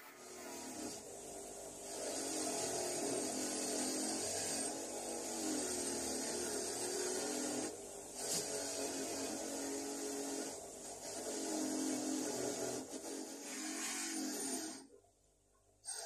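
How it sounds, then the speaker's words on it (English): A bench sander grinds rough edges and small chip marks off a multi-way sump plug spanner, a steady loud abrasive whir with slight shifts as the metal is pressed, running almost throughout before a brief drop near the end. "Using the bench sander, I'm just taking off some rough edges."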